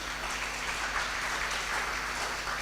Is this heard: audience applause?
yes